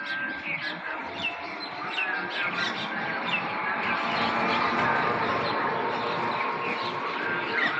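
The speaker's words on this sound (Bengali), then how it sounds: "সকালবেলা পাখি খাওয়াতে ভালো লাগে" Many small birds chirp and tweet in a dense, continuous chorus while being fed in the morning, with a steady background wash of traffic noise beneath them.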